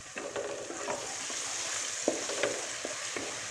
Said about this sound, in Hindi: अब इसको अच्छे से भून लेंगे।